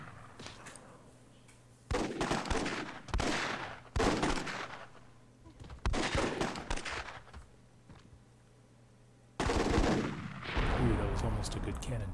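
Gunfire crackles through a Myth II Soulblighter video game battle as repeated bursts of shots and explosive blasts arrive in clusters, loud and close, with quieter gaps between them and a dense final stretch.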